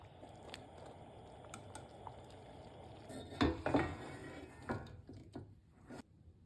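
A spoon scrapes and clinks against a pan while red and yellow lentil curry is stirred with bay leaf, cinnamon stick, cardamom and chopped mint, the knocks soft and irregular under a low background hiss.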